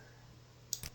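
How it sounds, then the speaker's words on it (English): A couple of quick computer mouse right-clicks near the end, sharp and close, after a stretch of quiet room hum. "Let me go right click, OK, customize, other,"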